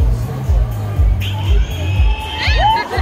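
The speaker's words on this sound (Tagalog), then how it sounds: "Sumisigaw na sila." A crowd at a concert performance at Barrio Fiesta Dubai 2024 shouts and cheers loudly and continuously, with high whoops and excited voices rising above a dense, rhythmic roar.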